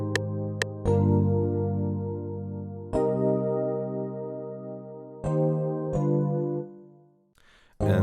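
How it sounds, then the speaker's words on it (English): A programmed piano melody plays in sustained, full chords with deep bass notes and added sevenths, the changes falling every couple of seconds and the sound cutting off near the end. "this is basically the base of the piano melody"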